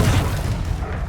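A Confringo spell goes off in Hogwarts Legacy as a deep, loud boom at the start that rumbles and fades over about a second.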